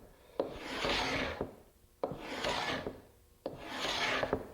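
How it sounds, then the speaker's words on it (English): A paint scraper rasps across a glued-up wood panel, clearing glue squeeze-out in three long, steady strokes, each starting with a sharp catch; close and moderately loud, no voices. "An ordinary paint scraper is a great tool for removing most of that glue squeeze out."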